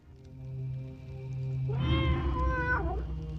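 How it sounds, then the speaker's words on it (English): A four-eyed cat in the Tormentum game lets out a single clear, drawn-out meow, loud and close, over a low steady game ambience. "It's a kitty cat."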